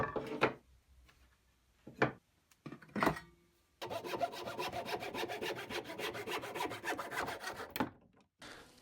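A few knocks and scrapes lead into a handsaw cutting rocking chair parts off square, its quick back-and-forth strokes steady and close, then stopping abruptly.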